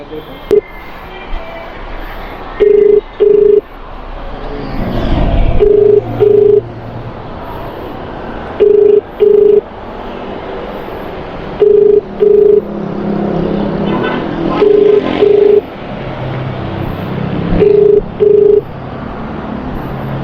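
A phone call being dialed inside a moving vehicle, with paired electronic ringback tones repeating at steady intervals over a low road rumble, while a voice talks briefly.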